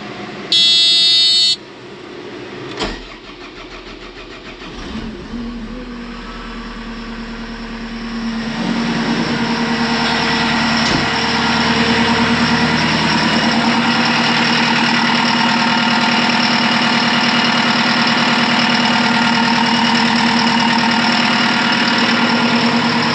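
A tracked skid steer's diesel engine cranks with a buzzing starter, catches and settles into a loud, steady idle up close, running alone for the rest.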